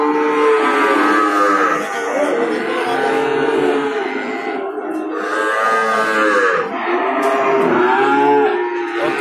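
Javanese cattle at a calf market mooing loudly and close, long drawn-out calls overlapping one after another with no pause, no talk.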